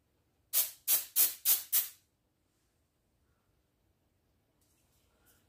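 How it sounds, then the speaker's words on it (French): Quick-drying nail varnish spray sprayed onto freshly painted nails, five short close hissing bursts in quick succession, then near silence. "je prends le spray et on va voir ce que ça donne."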